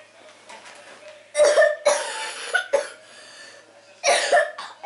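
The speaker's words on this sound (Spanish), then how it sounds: "Es normal que tosa, todo el mundo tose." Several loud, harsh coughs in short bursts, with quieter breathy pauses between fits, close to the listener.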